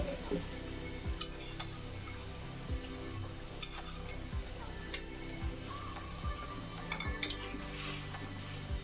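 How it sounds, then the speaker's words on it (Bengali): Fish simmers in a bubbling tomato gravy, a quiet, low bubbling sizzle broken by sharp clinks and scrapes of a utensil against the pot every second or so, close and faint. "টমেটো আর ঝোল বল আসার পরে মাছটা দিয়ে দিলাম"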